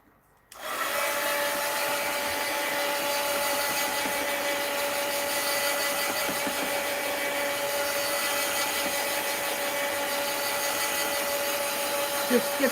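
A hair dryer blows a steady, continuous whoosh over the top layer of a mixed media art journal page, starting abruptly after a brief silence and running close and loud with little variation until the end.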